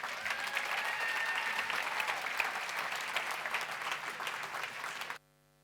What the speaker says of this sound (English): So give her a warm round of applause as she takes the stage